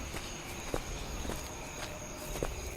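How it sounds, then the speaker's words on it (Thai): Footsteps in the horror video game Graveyard 404 fall as about five evenly spaced steps at a walking pace, set over a constant high insect-like ambient drone. "นี่เสียงเท้าใครไม่รู้"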